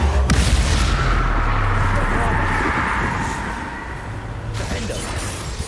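In a Hogwarts video game, a Confringo spell sets off a loud, rumbling explosive blast with a sharp crack at the start, a sustained roar that slowly fades, and a second burst near the end.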